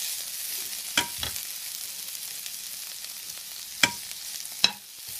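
Shredded cabbage frying in a pan for a stir-fried cabbage dish, with a steady hiss of sizzling and a few sharp clicks of a spatula against the pan, close by and with no talk.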